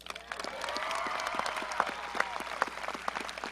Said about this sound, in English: Please join me in applauding this year's Outstanding Senior, Jeffrey Linehan.